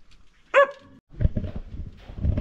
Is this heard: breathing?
no